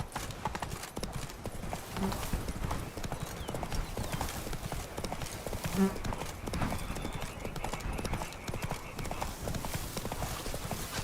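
Rapid, steady clip-clop of a horse galloping across hard ground in the video game The Witcher 3, continuous throughout, with a brief whinny partway through.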